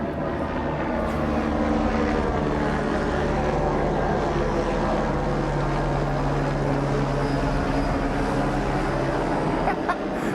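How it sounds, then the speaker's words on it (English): Black helicopter passing overhead, a loud, steady, droning engine rumble with throbbing rotor tones that fills the whole stretch without pause. "That's a black helicopter."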